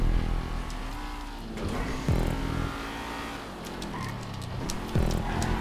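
Race car engine in GTA 5 Online pulling hard in second gear, a steady loud drone with rising pitch sweeps and a couple of sharp gear-change dips, faint tire noise underneath.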